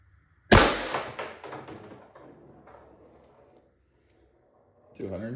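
A First Strike FSC less-lethal round is fired into a metal pan, one sharp loud crack with a ringing metallic decay, followed by a brief clatter at the end.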